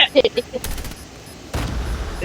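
Automatic gunfire from the Free Fire battle game rattles in two rapid bursts, loud and close, while a player speaks briefly near the start over game background noise.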